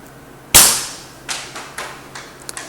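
A slingshot fires a small light projectile: one sharp, loud snap of the bands, followed by a few fainter thwacks and ticks as the shot strikes and echoes.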